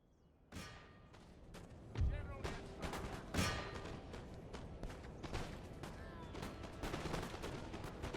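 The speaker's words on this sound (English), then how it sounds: "Come on, guys, a stronger volley." Infantry musket volleys in Empire: Total War, heard as a dense crackle of many shots with heavier booms near the start and middle, while a voice talks over the battle noise.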